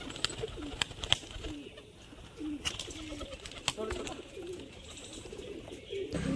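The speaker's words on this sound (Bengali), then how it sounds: "দেখে নিন একটা মাদি পায়রা" A female pigeon kept for racing coos softly nearby, its low murmuring calls repeating under faint background chatter and light rustling.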